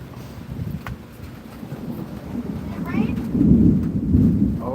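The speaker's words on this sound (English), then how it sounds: "It's raining." Rain with rumbling thunder, low rolling booms swelling louder toward the end over steady rain hiss and some wind buffeting on the microphone, with a faint voice briefly audible.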